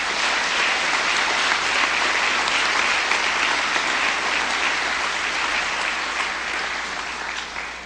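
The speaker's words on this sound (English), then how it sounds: "Let's give them a round of applause" Sustained applause fills a town hall on education and criminal justice, a steady loud wash of clapping that carries on for the whole stretch and tapers slightly near the end.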